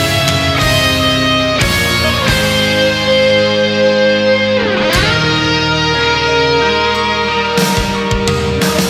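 Electric guitar plays the closing phrase of a solo, a continuous loud run of sustained notes with several sharp new attacks and sliding, bending lines, with no talk over it.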